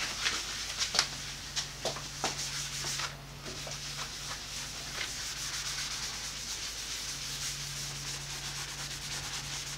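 Paper towel rubbing Boeshield T-9 into a cast iron table, steady back-and-forth rubbing strokes, close and quiet, with a few sharper scuffs early on and a low hum underneath.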